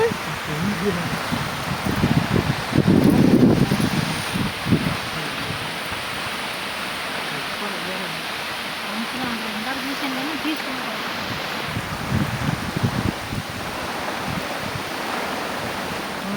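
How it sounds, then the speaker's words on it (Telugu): Heavy rain with wind sweeping over a farm orchard makes a dense, steady hiss that fills the whole stretch, swelling briefly near the start. "వర్షం చూడండి వెనకాల ఎట్ట పడుతుందో"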